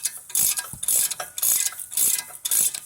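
A power tool tightens the brake bracket bolts on a 2012 Ford Focus during a front brake job, sounding as repeated loud, bright ratcheting bursts of about a third of a second each, close up, with short gaps.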